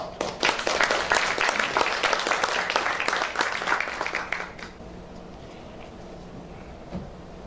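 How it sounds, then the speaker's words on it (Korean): Audience applause at a Korean business breakfast forum in a hotel ballroom, welcoming a university president to the podium; dense clapping for about four and a half seconds, then fading out into quiet room tone. "큰 박수로 맞이해 주십시오."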